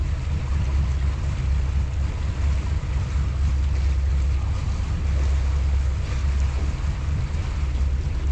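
A motorboat engine drones steadily while moving across a channel beyond a no-wake zone, with wind buffeting the microphone throughout; no voices.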